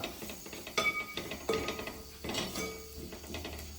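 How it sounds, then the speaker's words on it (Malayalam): Spoon stirring ground tomato into chicken roast masala in a metal pan: light clinking scrapes and taps against the pan in an irregular rhythm, close and moderately quiet. "ഒരു തക്കാളി അരച്ച് വെച്ചിട്ടുണ്ട്. നന്നായിട്ടൊന്ന് ഇളക്കി കൊടുക്കാം."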